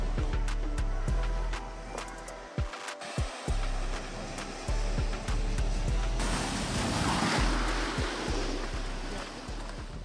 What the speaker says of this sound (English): I'm headed down to the beach